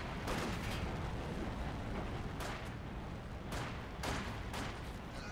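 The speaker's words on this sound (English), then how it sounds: "More Molotovs going off." Molotov cocktails bursting into flame in the strategy game Company of Heroes 2, a steady roaring rumble of fire and battle noise broken by several sharp crackling bursts, loud and continuous with no talking.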